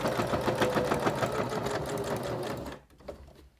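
A sewing machine stitches through a bulky fabric wrist cuff layered with batting, a loud, rapid, even mechanical chatter that runs steadily, then stops near the end, leaving quieter handling noise.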